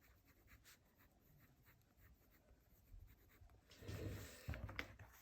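Waterman Carene fountain pen nib scratching across paper, quiet and close, with soft strokes that grow louder and busier toward the end.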